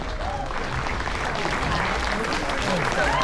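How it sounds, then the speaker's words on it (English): A standing audience honoring military veterans aboard the Carnival Mardi Gras cruise ship applauds in a steady, dense, continuous round of clapping that swells slightly toward the end, with voices mixed into the crowd noise. "Now keep that round of applause going and remain standing."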